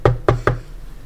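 Three quick knocks on a door in the horror video game Doors, sharp and fairly close, evenly spaced within half a second, followed by quiet room tone.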